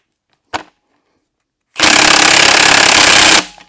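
A damper is hammered off an engine under teardown: one sharp metallic strike, then a loud, steady harsh burst of about one and a half seconds close by, with no talk.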